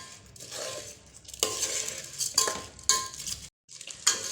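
Raw rice for a two-person mutton biryani is stirred and sautéed in a pan, giving a steady soft sizzle with scraping spoon strokes and brief sharper clinks, close and continuous with no talking.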